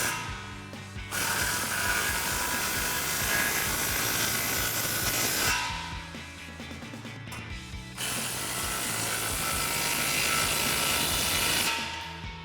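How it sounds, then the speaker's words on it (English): Ratchet clicks keep on while tightening the rear muffler clamps of a dual exhaust system on a Toyota Tacoma, in two long, dense runs broken by a short pause, close and fairly loud. "and we can tighten our rear clamps"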